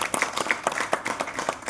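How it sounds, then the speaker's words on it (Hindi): A small audience at a Hindi poetry recital gives thin, scattered applause, a few sparse claps at an uneven rhythm, moderately close and fairly quiet. "ये कमजोर तालियां हैं"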